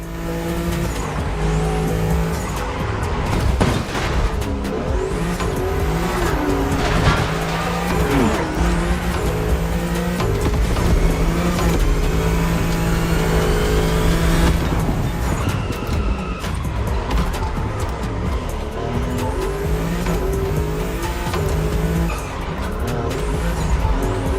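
A Ferrari 308 GTS races through the video game The Crew Motorfest in Hawaii, its engine revving loud and continuous with shifting pitch, gear changes and bursts of tire squeal.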